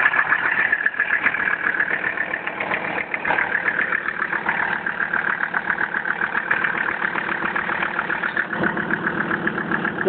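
A 1981 Mercedes-Benz Unimog 6x4 with a turbo diesel engine idles close by, a steady, loud, rapid diesel clatter with a rough, slightly knocking beat that holds constant throughout, with no voices.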